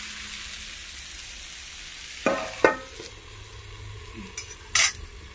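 Spiced eggplant bharit fries in oil in a pan with a steady soft sizzle, broken by a few sharp spatula scrapes and clanks against the pan, close by with no talking.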